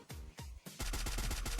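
An M4A1 rifle in the Free Fire video game fires two spaced single shots, then a rapid burst of loud, evenly spaced automatic shots, close and alone without talk.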